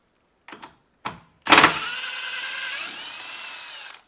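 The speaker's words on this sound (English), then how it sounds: "if you guys use a Milwaukee 1/4-inch drive gun, impact gun" A Milwaukee 1/4-inch drive impact gun removing grille fasteners on a Ram 2500 5th Gen truck: two short bursts, then a longer steady whirring run with a brief sharp hammering start, close and clear.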